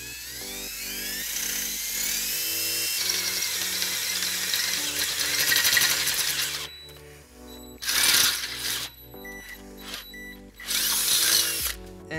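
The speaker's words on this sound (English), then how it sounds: "we're going to use a 3/8 drill bit to drill that out" A power drill with a 3/8-inch bit whines steadily as it bores through metal on a 2013 Fiat 500 while installing a baseplate, then stops and restarts in two short bursts.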